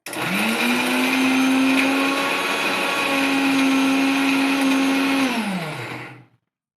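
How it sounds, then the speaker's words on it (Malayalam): A mixer grinder crushing spices and curry leaves whirs loudly and steadily for about six seconds, its motor pitch dipping briefly midway before winding down to silence. "നമ്മൾ മിക്സിയിലിട്ടൊന്ന് ചതച്ചെടുക്കുക"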